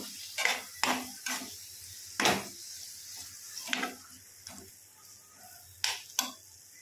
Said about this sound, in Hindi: व्यवस्थित मिक्स करून घेऊया त्याला